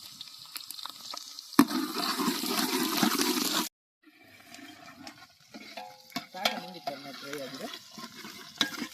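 Green chilies frying in a pan for a Kundapura-style chicken leg green masala, with a steady close sizzle for a few seconds, a brief pause, then softer crackling and stirring sounds as a voice speaks.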